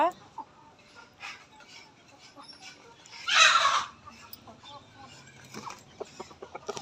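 A rooster of a fighting breed gives a single loud crow midway, with soft clucking and faint talking before and after.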